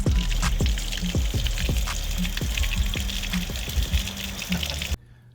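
Water gushes steadily from a newly installed DIY PEX pipe spigot, a loud continuous splashing pour with thumps and knocks under it, which cuts off abruptly near the end.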